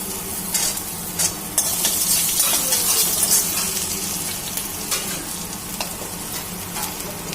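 Chopped ginger and onion fry in a pan with cumin and garlic in mustard oil, a continuous close sizzle broken by stirring scrapes and small spatters, with no talk.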